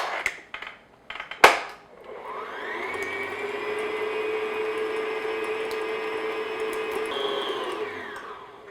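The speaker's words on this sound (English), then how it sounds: "So all I'm going to do is just beat this on like medium speed, just until it gets nice and smooth." An electric mixer beats butter at medium speed, its steady whir rising in after a few knocks and clicks and holding evenly for several seconds before easing off, close and with no talking.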